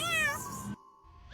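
A cat gives one short, clear meow close to the microphone, followed by a brief pause and the faint start of another sound.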